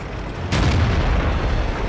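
A single heavy tank cannon shot booms from the AMX 13 90 in World of Tanks, a sudden blast followed by a sustained low rumble that fills the rest of the moment.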